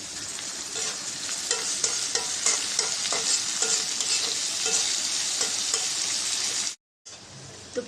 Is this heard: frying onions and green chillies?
yes